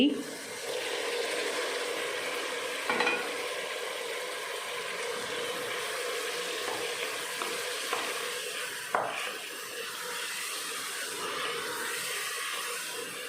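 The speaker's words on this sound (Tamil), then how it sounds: "தக்காளி மசிகிற வரைக்கும் நல்லா வதக்கிடலாம்." Chopped tomatoes sautéing with ginger garlic paste in a pan for tomato rice, a steady soft sizzle with repeated scraping and stirring strokes throughout, close and moderately loud, with no talking.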